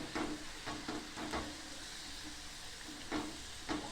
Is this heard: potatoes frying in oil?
yes